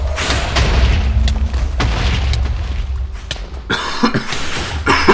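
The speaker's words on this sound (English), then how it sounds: "Another cough, sorry." A few harsh coughs close to the microphone near the end, with loud booming and rumbling Minecraft game sounds filling the background.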